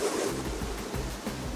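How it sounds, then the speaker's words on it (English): Rushing water flowing underneath a cafe on the Albanian Riviera, a steady broadband wash that stays close and loud and continuous throughout, with no talking over it. "You hear the rushing water?"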